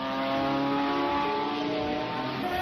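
A car engine drones loud and close, holding a steady strained tone with dense layered harmonics as it accelerates, no voices present.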